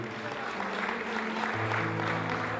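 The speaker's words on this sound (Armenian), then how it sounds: "առաջարկում եմ եւս մեկ անգամ արժանի ծափեր նվիրել մեր անկին ծնողներին։" Steady applause from guests at an engagement party, filling the room as a dense, even wash of clapping with a sustained tone and crowd murmur underneath.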